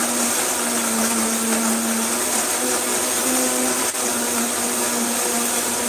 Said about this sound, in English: I can see it's changing with the ice blending.